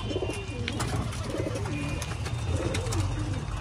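Several soft, rolling pigeon coos repeat close by amid faint ambient chatter and noise at a pigeon flying tournament, the low throaty calls coming in short phrases.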